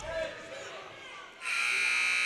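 The end-of-period buzzer sounds at a middle school boys' basketball game in a gym, a loud sustained electronic tone that starts partway through and continues to the end, following a stretch of crowd and commentary noise.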